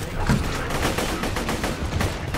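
Rapid video game gunfire crackles in a dense, continuous barrage of sharp overlapping shots, loud and close, with no clear pauses.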